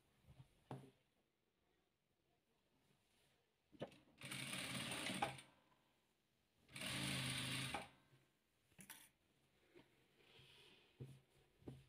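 A sewing machine stitching rows of star-pattern patchwork runs in two loud bursts of about a second each, with quiet pauses and faint handling clicks between them.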